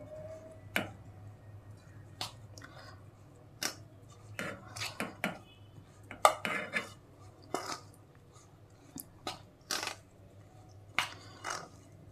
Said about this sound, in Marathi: चमच्याने मिक्स करते, गरम आहे म्हणून